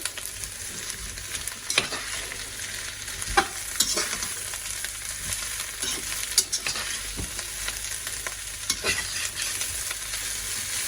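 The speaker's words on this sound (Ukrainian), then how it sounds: "Після чого я одразу закладаю наш перчик. Перемішую." Sliced bell pepper added to sautéed carrot and onion sizzles steadily in a frying pan, with occasional sharp scrapes and knocks from a spoon stirring, no voices.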